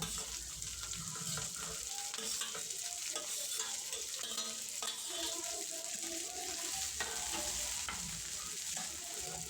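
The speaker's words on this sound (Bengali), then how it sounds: "নেড়ে চেড়ে কিছুক্ষণ ভেজে নেব" Onion, carrot, capsicum and cabbage sizzle and are stir-fried in a pan for Hakka noodles, a steady, fairly faint frying hiss broken by repeated scraping stirs, with no talk.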